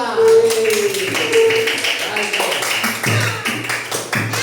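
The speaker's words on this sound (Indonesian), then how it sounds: "Tepuk tangan untuk kelompok 2." Schoolchildren in a classroom clap for a group of their classmates in short bursts of tapping claps, mixed with an adult voice and children's voices talking over them.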